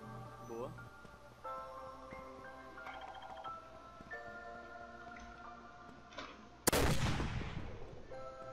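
Gunfire from the MTA DayZ survival shooter game, a sudden loud shot near the end after quieter in-game tones and ticks, with players talking during the match.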